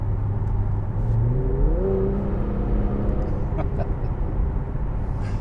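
A 2021 Infiniti Q60 Red Sport 400 AWD accelerates, its engine a steady low rumble with a rising whine as revs climb, heard from inside without talk.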